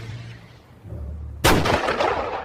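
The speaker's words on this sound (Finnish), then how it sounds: "Älä ammu raketteja vielä" After a low rumbling lead-in, a rocket fires with a sudden loud blast and crackling roar that stays close and decays over the following second.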